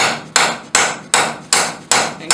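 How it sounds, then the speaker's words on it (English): A steel rose petal is textured with a hammer during forging: five loud, sharp metallic strikes land at an even, steady pace, each ringing briefly before the next, with no voices. "we'll hammer right away"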